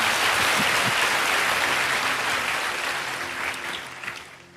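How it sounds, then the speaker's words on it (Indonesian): A church congregation applauds during a Sunday service, a loud, dense wash of many clapping hands that holds steady and then gradually fades. "Berikan tepuk tangan kita untuk Tuhan kita."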